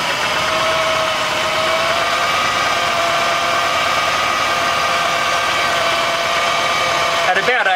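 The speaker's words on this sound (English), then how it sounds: "Step one, just set the idle speed roughly to 800 revs." A Subaru Brumby engine fitted with a Weber carburetor idles at roughly 800 rpm during tuning, giving a steady, even mid-pitched rumble with slight vibration that carries on unbroken, up close, with no one talking.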